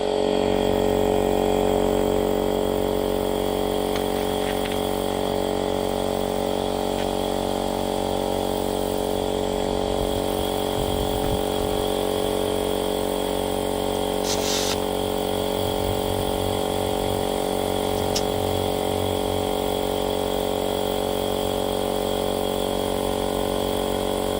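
Steady, loud droning hum of an air pump running continuously, inflating a part on an old Morris J2 commercial van, close and unbroken, with faint mechanical ticks and no talk.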